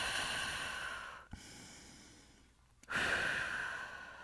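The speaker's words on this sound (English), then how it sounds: "Take a couple cleansing breaths." Two deep cleansing breaths during a morning yoga session, each a long, close exhale separated by a short pause, with no talking.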